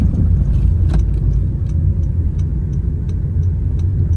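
A car drives slowly along a quiet concrete road inside a Thai temple ground beside the temple wall, giving a steady low rumble of engine and tire noise with faint light ticking throughout.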